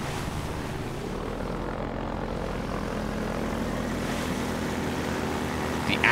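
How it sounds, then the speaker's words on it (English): The Hunter-Chopper helicopter in Half-Life 2 roars steadily, a dense, loud rotor and engine drone filling the whole stretch with no pauses, rising slightly toward the end. "That was really fun. Having to dodge the helicopter thing."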